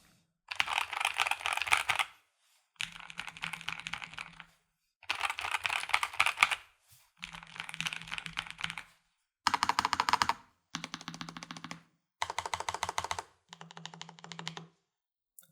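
Bursts of rapid clicky keystrokes on low-profile mechanical keyboards, a Lofree Flow Lite and a Nuphy Air75 V2, eight separate typing runs of a couple of seconds each with short pauses between, close and crisp.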